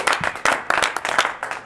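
Crowd claps and cheers for a poker player at a casino livestream event, a steady burst of applause with sharp clap peaks running throughout the short moment.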